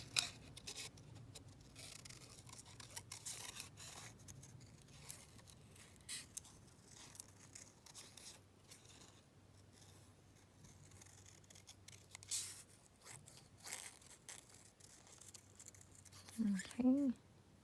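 Scissors cut out a paper butterfly with faint, scattered snips and rustling close by, soft and intermittent against a quiet room.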